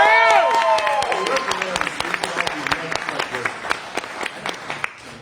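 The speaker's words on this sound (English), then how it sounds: "let's do a round of applause for teachers" Loud applause from an open mic audience, dense clapping that swells at first and then gradually thins out over several seconds, with a few cheers mixed in.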